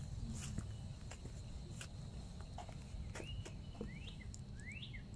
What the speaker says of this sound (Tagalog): Pakinggan mo yung tunog ng ibon.